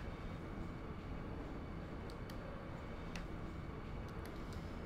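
Train rolling along in the Final Fantasy VIII video game: a steady, dense rumble of wheels and carriage noise with a few faint metallic clicks, continuous throughout, with no voices.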